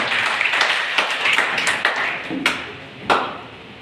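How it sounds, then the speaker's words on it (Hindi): Scattered applause welcoming a speaker at a government college's International Women's Day celebration, a thin patter of hand claps with a few sharper individual claps standing out near the end. "जोरदार तालियों से उनका स्वागत करें"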